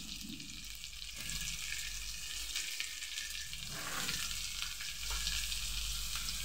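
Ridge gourd pieces frying with potatoes in hot oil, a dense, bright sizzle running throughout at close range, with occasional stirring shuffles and spatula movements breaking the texture.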